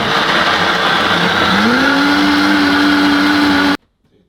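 A countertop blender whirs loudly and steadily, blending a chicken shake made from air-fried chicken and water, its motor pitch rising slightly as it spins up, then cutting off abruptly.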